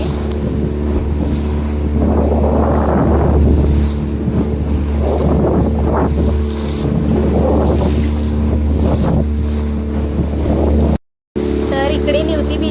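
A boat rides out on the sea off Nivati beach on the Konkan coast, its steady engine drone mixed with rushing wind buffeting the microphone and washing water, loud and close, with a brief dropout near the end.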